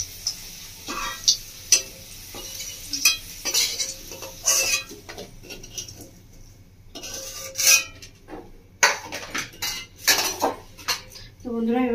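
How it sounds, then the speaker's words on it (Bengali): Carrots being stirred in a frying pan, cooked after potatoes, with repeated clanks and scrapes of a utensil against the pan and a faint low sizzle beneath, alone without talk. "তো বন্ধুরা এবার গাজরটা ভেজে নেবো,"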